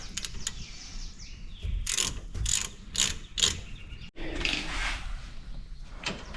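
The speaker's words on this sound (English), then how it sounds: "he's got that ratchet wrench" A ratchet wrench loosens the sway bar link nut on a Jeep TJ, giving close, rapid bursts of clicking in several short runs with brief gaps between them.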